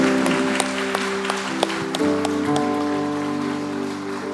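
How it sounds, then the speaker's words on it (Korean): A church congregation claps during a Sunday worship service, scattered sharp claps over a sustained tonal background of organ or keyboard chords, the applause thinning out toward the end. "우리 자리에 잠깐 들어가실 때까지 박수로 축복하겠습니다."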